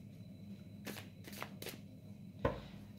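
A tarot deck being shuffled and cut in a quiet room: a few soft riffling bursts of cards, then a single light tap as the cut lands, faint and close with no talking.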